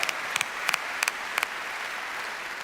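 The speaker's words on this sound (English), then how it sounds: "So let's give Peter a well-deserved applause." Audience applause at a debate held in Peter's memory, a steady wash of clapping from a hall crowd with a few sharper claps standing out near the start, even and moderately loud throughout.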